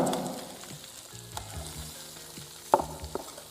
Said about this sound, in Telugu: ఈ 3 కలిపేసి ఫ్రై చేద్దాం